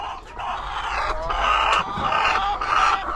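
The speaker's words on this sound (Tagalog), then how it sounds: "Ayan yung mga manok natin." Jumbo Kanoy chickens on a small backyard mini farm cluck and squawk in overlapping bursts, several birds calling close by, with one louder rising call near the end.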